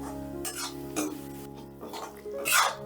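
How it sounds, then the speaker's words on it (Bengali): A spoon scrapes and stirs spice masala frying in a pan for an okra and potato curry, giving several separate rasping strokes with soft sizzling between them, close and without speech. "এবারে সমস্ত মশলাটা প্রায় আমি তিন চার মিনিটের মতন করে কষে নেব"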